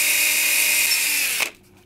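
A power drill bores straight through a tail piece to fit a rod, whining steadily and loudly up close for over a second before it cuts out and the sound drops to near silence.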